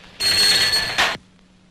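A telephone bell rings in a scene from a 1980 Hindi film, one loud continuous metallic burst of about a second, then a short break and a brief second burst before it stops, with no talk over it.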